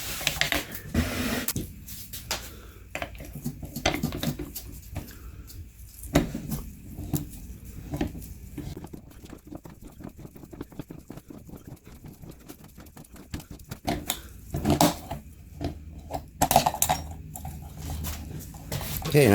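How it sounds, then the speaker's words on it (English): Used Union Sangyo C-561M oil filter being cut open with a tool, giving a close, steady run of scraping, clicking and metallic crunching with short louder clanks, and no talking. "Okay, let's open this filter up, see what it looks like."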